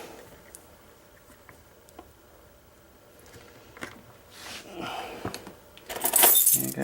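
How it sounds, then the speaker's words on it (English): A bunch of bump keys for locks jangling and clinking, faint sparse ticks at first, then building to a louder, denser rattle near the end, with no talk. "I got all these bump keys here."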